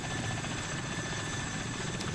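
Helicopter flying in the combat flight simulator DCS, a steady broadband rotor and engine roar that holds at constant loudness throughout, close and continuous with no talk over it.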